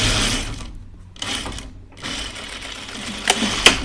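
A sewing machine stitches drapey dress fabric in steady whirring bursts, pausing twice briefly before resuming, with a few small mechanical clicks near the end.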